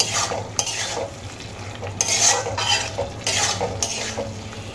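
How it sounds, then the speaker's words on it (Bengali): Ground spices with turmeric and salt being stir-fried in a pan for a thin rohu fish and potato curry: repeated metal spatula scrapes and clinks over a soft continuous sizzle, close and without talk. "এবার আমি সমস্ত মশলাগুলোকে খুব ভালো করে কষিয়ে নেব।"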